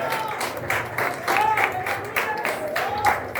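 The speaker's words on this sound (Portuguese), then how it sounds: "Aplaude bem forte" Church congregation applauding during a sermon, a sustained patter of many hands under a preacher's voice that keeps speaking over it.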